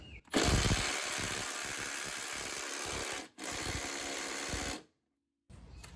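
A 12v 1/4-inch Milwaukee Fuel impact driver hammers at a rear shock bolt in two loud, sustained close bursts separated by a brief stop, then a pause and a short restart.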